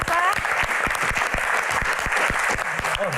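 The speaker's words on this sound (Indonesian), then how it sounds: "Tepuk tangan sekali lagi teman-teman." Loud applause from an audience welcoming guests onto stage at a Q&A event, sharp clapping over a busy, crowded room, with strong tonal music or voices woven through and a voice briefly audible near the end.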